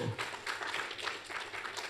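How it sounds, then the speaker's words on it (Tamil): An audience at a stage event claps for a child, a soft, fairly distant patter of many hands that keeps an even, continuous rhythm. "எல்லாருமே ஒரு உற்சாகமான ஒரு கைத்தட்டல் கொடுங்க பார்ப்போம்"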